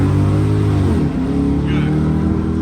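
An old Lexus fitted with a Chevy engine pulls hard and loud nearby, its rising engine note dropping sharply at the 1-2 gear shift before building again.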